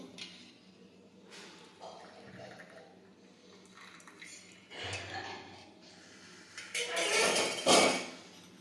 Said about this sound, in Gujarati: હવે આપણે 1 કપમાં ગળી લેશું.